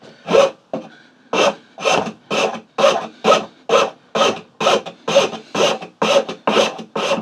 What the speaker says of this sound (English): I'm going to use just a normal rasp on this side.